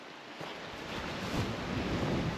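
The River Nid flowing along a countryside walk, a broad steady rush of water mixed with wind buffeting the microphone, growing a little louder toward the end, with no voices.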